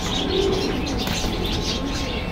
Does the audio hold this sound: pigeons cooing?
yes